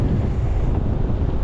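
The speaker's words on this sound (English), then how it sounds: "The wind is consistently over 20." Strong wind above 20 knots roars steadily across the microphone aboard a sailboat on open water, a dense continuous low rumble with no voices.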